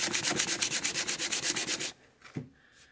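Rapid, even back-and-forth strokes of sandpaper rubbing a wooden phone amp piece, raising sawdust, about a dozen quick rasps close up before stopping, followed by a couple of faint light knocks.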